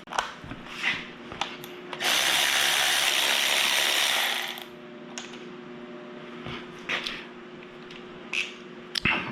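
A ratchet works on engine oil pump bolts during an engine build, giving one close, sustained rasping run of about two and a half seconds, framed by scattered light clicks and taps.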